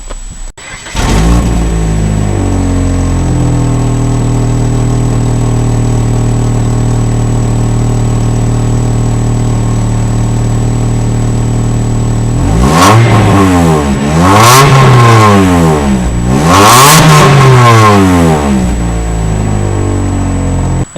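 Car engine on its stock exhaust starts, settles into a steady idle, then gets several sharp revs that rise and fall, loud and close with no talking.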